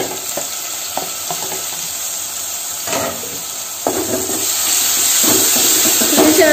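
Shallots sizzling and crackling in hot oil while being stir-fried for a Kerala-style pepper beef curry, with mustard seeds already fried; a steady close frying hiss with stirring scrapes that grows louder toward the end.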